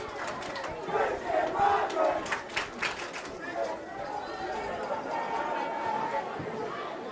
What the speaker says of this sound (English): Crowd getting into it here, 3rd and 3.